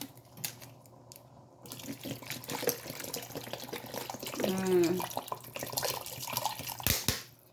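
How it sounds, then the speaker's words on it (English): Water is poured into a pot of chili on the stove, a short burst of splashing liquid rising midway through, with kitchen clatter and faint background noise around it. "We're gonna pour some water."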